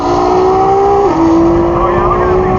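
A tuned GT-R making more than 1100 horsepower accelerates hard in a drag race against a Tesla Plaid, its loud engine note climbing in pitch and holding steady through a shift, with some crowd or commentary noise faintly underneath.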